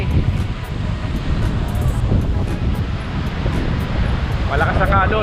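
Rough, continuous rush of strong surf and storm wind on a Boracay beach during a typhoon, buffeting close to the microphone, loud and unbroken throughout.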